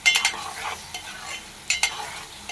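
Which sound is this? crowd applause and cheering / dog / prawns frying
prawns frying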